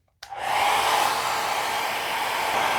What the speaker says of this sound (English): you can use a hair dryer to dry it faster